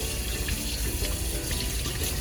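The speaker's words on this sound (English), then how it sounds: "Make sure you rinse all those germs down the sink." Tap water runs steadily into a sink as hands are rinsed beneath it, a loud continuous splashing hiss with no break throughout.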